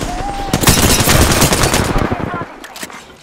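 Rapid automatic gunfire from an Apex Legends match, a dense burst of shots crackling loudly and continuously for about two seconds before thinning into a few scattered, more distant pops.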